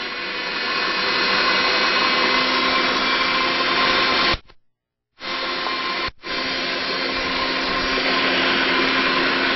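A food processor whirs loudly as it blends mango nectar soup, a steady high motor drone that cuts out for about a second, restarts, then briefly dips again before running on.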